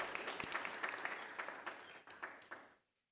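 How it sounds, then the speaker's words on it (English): Audience applause for Ms. Henry at a campus safety launch event, a dense wash of many hands clapping with a few louder claps standing out, tapering off and ending abruptly near the close. "Let's give Ms. Henry another round of applause."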